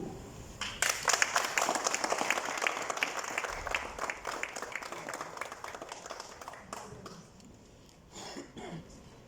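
Audience applause fills a masons' certificate ceremony in Mauritius, a dense crowd of clapping that swells in and holds for several seconds before thinning out, with a few coughs and throat clearings scattered near the end.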